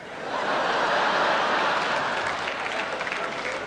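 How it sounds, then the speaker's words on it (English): Sustained audience applause fills a concert hall during a comic opera performance, loud and dense throughout with a few chuckles mixed in. "while you were laughing and applauding"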